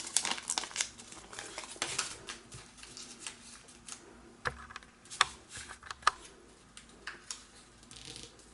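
Paper being folded into an origami soccer badge, with a run of crisp crinkles, creases and rustles coming in uneven bursts, close and fairly quiet, with no talk.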